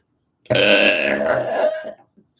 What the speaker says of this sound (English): Apparently, I burped and spat at the same time or something.